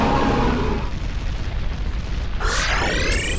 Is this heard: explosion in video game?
yes